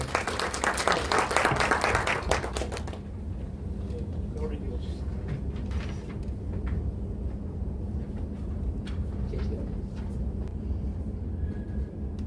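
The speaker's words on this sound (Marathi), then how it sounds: "CA ललित पवार सर, एकदा जोरदार टाळ्या होऊन जाऊ." A seminar audience on real estate transactions and accounting breaks into loud, dense applause for about three seconds, then it stops abruptly and only a low room hum remains.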